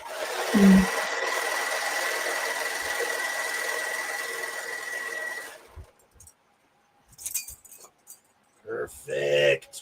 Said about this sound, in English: The thing about a serger is that it's relentless. So even something like this, it's making the seams as I'm going.